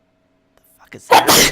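One sharp, loud, close sneeze bursts out after a quiet breath-in, in a dusty sewer setting, brief and forceful, right after a short spoken line.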